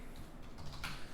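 Computer keyboard keys clicking in a quick, steady typing run, fairly quiet and close, with no voices.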